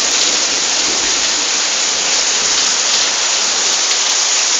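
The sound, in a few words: rain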